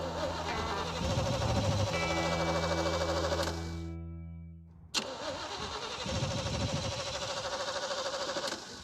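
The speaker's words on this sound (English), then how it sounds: "the Jeep wouldn't crank again, like the battery was dead, and we've also been having a problem where it idles terrible" A Jeep engine in the Scrambler, which idles badly, runs loud and uneven, cuts out, then bursts back to life with a sharp start and settles into a rough, lumpy idle, close by.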